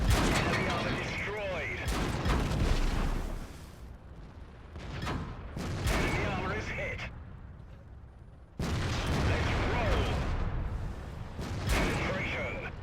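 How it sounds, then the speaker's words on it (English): Booming tank cannon fire and battle noise from the World of Tanks video game, including a massed line of heavy tanks, rumbles dense and continuous, with sharp blasts over a steady din. "Getting shot at in the side by a gigantic tank line over here."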